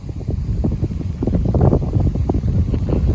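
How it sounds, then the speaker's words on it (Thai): Strong wind buffets the microphone over open rice fields at a community farm plot in Buriram, Thailand, a loud, continuous low rumble with gusty surges and no talking. "จุดตรงนี้ได้ยินลมเสียงกว่า ดังกว่าคนบรรยายครับเนาะ"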